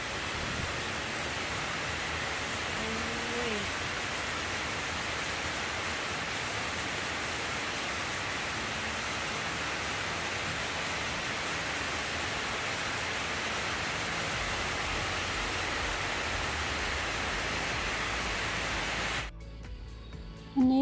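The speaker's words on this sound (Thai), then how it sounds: "ฝนตกหนักมากเลย" Heavy rain pours steadily during a stormy rainy season at a house under renovation, a dense unbroken hiss that stays loud and even for a long stretch before cutting off abruptly near the end.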